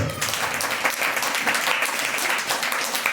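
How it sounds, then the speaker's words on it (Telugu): A church congregation claps loudly during a sermon, producing dense, continuous applause that rises quickly and holds steady for a few seconds without speech. "గట్టి చప్పట్లు కొట్టు"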